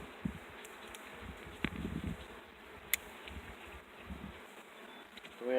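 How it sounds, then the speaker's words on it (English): VSH Italian queen bees in cages from a Georgia breeder give off a faint, steady insect buzz with a few soft rustles and one brief click, heard alone and close with no talking. "So these are all VSH Italian queens."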